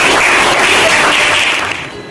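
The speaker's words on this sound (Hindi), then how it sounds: "इसलिए हम लोग तालियों के साथ इनका हार्दिक अभिनंदन करते हैं।" A crowd at a Holi celebration for students of a youth skills program applauds in a loud, dense burst of clapping that holds steady, then thins and fades near the end.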